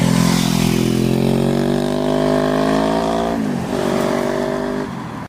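MZ 1000S motorcycle on its stock exhaust, a loud, steady engine note holding near one pitch, dipping briefly as the revs change, then resuming before cutting off at the end.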